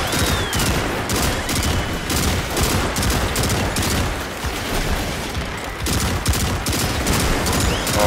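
Heavy, continuous gunfire in the video game Destiny 2, loud rapid shots layered over booming impacts and effects, sustained throughout without a break.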